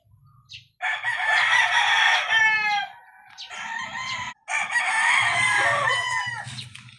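A nine-month-old straight 5K Sweater gamefowl rooster crows loudly and close by in two long calls. Low clucking from other birds in the backyard sits underneath.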